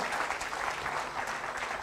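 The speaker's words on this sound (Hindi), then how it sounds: "आप सबके लिए जोरदार तालियां लेडीज एंड जेंटलमैन" Audience applause at a motivational business seminar, a brief burst of dense, steady clapping from a crowd, fairly close and continuous throughout.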